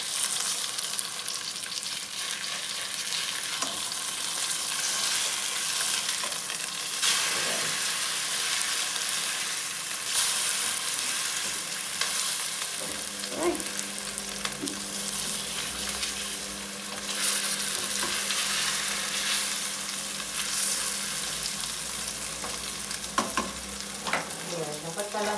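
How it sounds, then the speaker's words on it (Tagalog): A pot of rice boils on the stove, giving a steady bubbling hiss throughout with a few faint clinks, and no voices. "Kumukulo na talaga yan."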